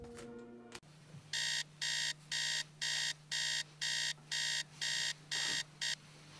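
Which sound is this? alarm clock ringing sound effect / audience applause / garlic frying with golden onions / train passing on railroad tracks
alarm clock ringing sound effect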